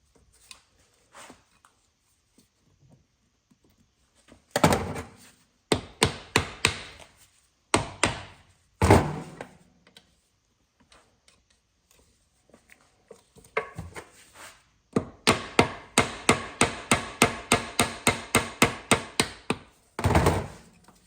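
A hammer taps out a Corvette transmission servo during shift kit removal, making sharp metallic knocks that come first as scattered pairs and then as a fast, steady run of close, loud blows, with no speech.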